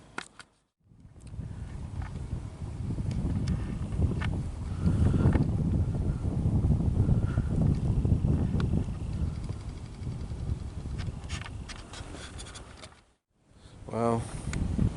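Outdoors on a squirrel hunt, wind buffets the microphone in a steady rumbling roar that swells and eases for most of the time, with brief quieter gaps at the start and near the end.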